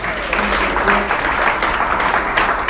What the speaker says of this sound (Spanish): Si va a aplaudir, aplauda en el nombre de Jesús en esta hora.